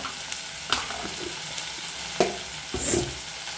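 Masala paste frying in oil over a low gas flame for crab curry, a soft continuous sizzle broken by a few sharp scrapes and taps of a stirring spoon, close by and unaccompanied by speech.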